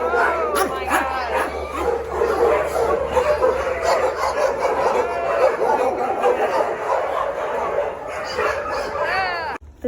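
Dogs bark, yip and whimper at a shelter; several animals make overlapping, excited noise that stays loud and close throughout, with a person's voice speaking over it.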